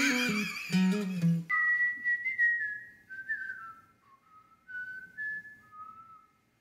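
A person whistles a wandering melody alone in a quiet room, the bright tune rising and falling in short phrases after a brief burst of musical sound at the start, fairly close and clear.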